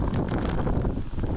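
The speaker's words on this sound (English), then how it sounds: "This beach is also, let's say, invigoratingly windy." Strong, steady wind gusts buffet the microphone on an open New Zealand beach, a loud, close, continuous roar with no voices.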